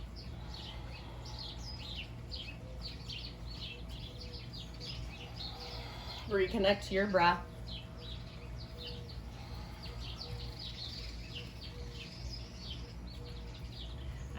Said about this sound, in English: hopefully you can hear some of the birds